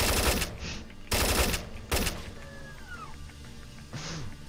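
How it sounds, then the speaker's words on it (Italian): Gunfire in the stealth video game Splinter Cell: Chaos Theory, with three loud, sharp, broadband shots in the first two seconds followed by quieter game sounds and a faint later burst. "Ha sparato al tizio svenuto"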